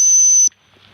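A single loud, sustained dog training whistle blast, used to signal a retriever to stop, holds steady for about half a second and then cuts off sharply, leaving quiet outdoor background.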